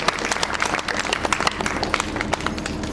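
Audience at a Hindu devotional jagran breaks into steady, dense applause, many hands clapping together at close range for about three seconds with no voices on top.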